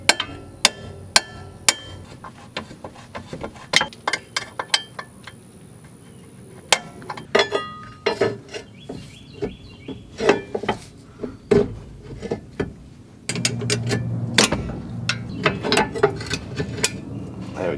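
A car jack is worked under the sway bar of a Subaru during a ball joint replacement, making scattered metallic clicks, ratcheting taps and clanks at close range with no talking.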